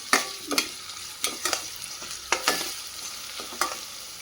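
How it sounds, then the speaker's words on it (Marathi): Onion sizzles in a pan while a utensil scrapes and stirs in quick, irregular strokes, close and fairly quiet. "मस्तपैकी असा कांदा भाजतो."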